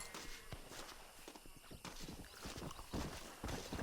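Horse hooves clip-clopping in the video game Red Dead Redemption, a few quiet irregular footfalls with faint noise, fairly soft and alone.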